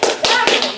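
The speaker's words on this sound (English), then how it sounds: "We need to clap loudly." Three sharp, loud claps in quick succession from an audience at a leadership talk, close and dry, with no other sound between them.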